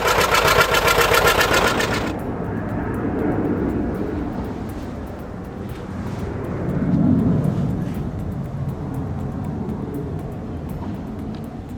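A massive old agricultural engine runs with a continuous low, dense chugging rumble that swells and eases slowly, with a brief higher mechanical whine at the very start.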